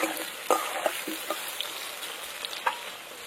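Potatoes fry in oil with turmeric, a soft continuous sizzle broken by a few sharper crackles and stirring scrapes, close and moderately quiet, with no talking.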